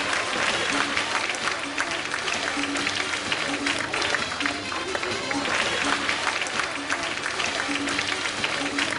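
Sustained audience applause fills a sea lion show arena at Nigloland, dense steady clapping from a large crowd throughout, with a few voices mixed in.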